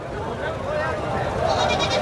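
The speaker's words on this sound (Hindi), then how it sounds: "और ये बकरे हैं और माशाल्लाह सीज़न भी लगे हैं और मंडी में रश भी बहुत ज़्यादा है" Goats bleat at a busy livestock market, with several calls rising over a crowd's murmur while someone talks nearby.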